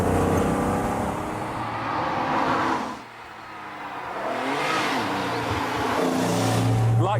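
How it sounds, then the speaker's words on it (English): A TVR sports car with a 350 bhp engine revs and roars loudly, dipping briefly mid-way before building again in a throaty rising tone, close and dominant. "But with a car that looks and sounds like this, who cares?"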